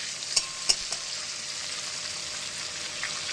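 Tomato frying in oil, a steady hiss of sizzling with a few sharp spatters and utensil clicks near the start.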